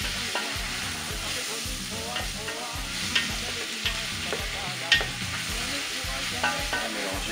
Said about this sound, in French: Bien mélanger le tout.